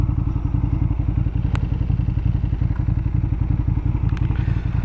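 A motorcycle engine idles steadily and loudly nearby at the botanical gardens in Uppsala, with a rapid, even putter and occasional light clicks, no voices.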